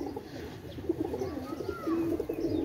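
Pet pigeons, Pakistani teddy breed, coo softly in a few low, rounded calls, close by but faint, with a light chirp or two in between.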